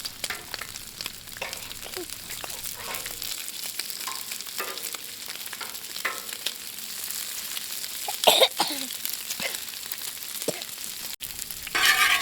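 Bacon and sausage fry on a Blackstone flat-top griddle with a steady sizzle throughout, along with occasional scraping and stirring clatter and a cough or throat clearing near the end.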